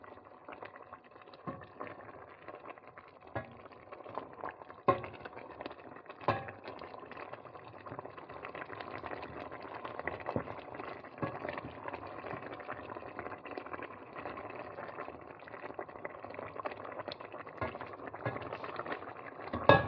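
AllowGobe bubbles and hisses over a high flame as the last of its water boils off, a steady, moderately quiet simmering crackle with occasional soft clicks and taps.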